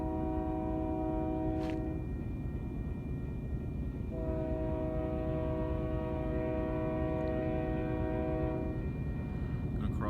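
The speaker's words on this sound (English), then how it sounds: "Oh, I hear a train." Locomotive 5888 working hard sounds its horn in two long, steady blasts, the second lasting several seconds, over a constant low rumble, all faint and distant.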